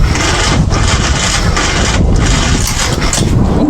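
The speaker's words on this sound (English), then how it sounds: "Well, it tried to start, didn't it? That's the first time the engine's turned over for something like 10 years." A long-dormant Moto Guzzi motorcycle engine cranks loudly and continuously at close range, churning with rough pulses as it tries to fire after about ten years unused.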